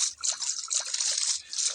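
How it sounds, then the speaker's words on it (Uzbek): Flood water rushes and trickles continuously in Minecraft, a bright, hissy stream of flowing liquid with small splashy variations and no talking. "Yo, toshqin suvlar oqar, o'tolmayman"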